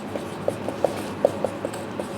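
A pen scratches out a definition for a class 10 chemistry lesson on classifying elements: a run of soft, close strokes and light taps against paper in an uneven rhythm, with no talking.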